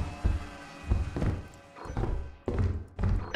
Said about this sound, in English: I think I hear a thumper.